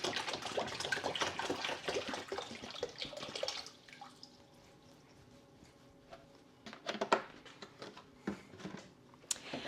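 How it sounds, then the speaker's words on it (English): Fox Farm Grow Big liquid plant food poured into a container for a cheap hydroponic setup, a steady close splashing stream for a few seconds, then quiet with scattered drips and small clinks. "I'm using Fox Farm Grow Big liquid plant food, and I'm going to add a gallon."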